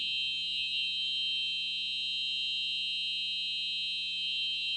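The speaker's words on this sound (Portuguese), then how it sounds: "Alarme de incêndio?" Fire alarm sounding during a technical conference talk in a lecture hall, a continuous high-pitched electronic tone that stays loud and steady throughout with no speech.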